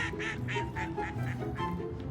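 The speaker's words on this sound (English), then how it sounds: "now there's this lonely duck looking for a..." A lone duck quacks in a quick, steady series of about eight nasal calls, close and fairly loud over a low background rumble.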